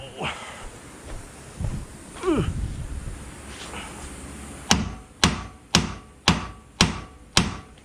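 Six sharp metal hammer blows ring out in a steady rhythm on the steering knuckle of a Nissan 240sx coupe during a roll center correction kit install, following some earlier shop clatter and scraping.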